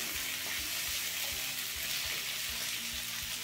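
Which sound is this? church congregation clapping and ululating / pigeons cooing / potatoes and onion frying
potatoes and onion frying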